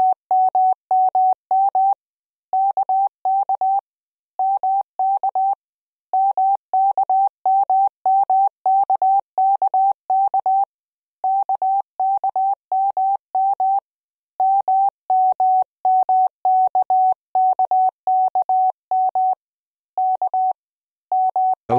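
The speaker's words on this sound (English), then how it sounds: "Additional noise and distortion effects are available that can emulate chirp and pitch dithering" Morse code CW tones from a training program with chirp and pitch dithering effects, a steady mid-pitched beep keyed in rapid dots and dashes in repeated groups with short gaps, clean and alone.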